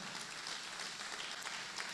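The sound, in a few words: audience applause at conference keynote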